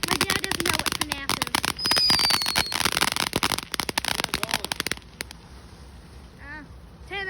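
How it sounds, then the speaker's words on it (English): Fireworks crackle and pop in a dense, loud barrage outdoors on New Year's, with bursts fading near the end to a quieter background where faint whistling rockets rise. "10 out of 10 firework."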